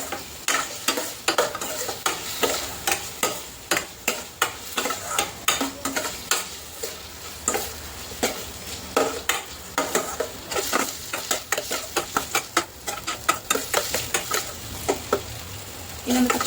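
Vegetables sauté in a hot pan for spicy Yippee noodles, making a close, continuous sizzle broken by frequent sharp scrapes and clacks as a spatula stirs them in an irregular rhythm.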